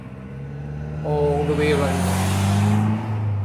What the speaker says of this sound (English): Sorry about the noise of the cars there.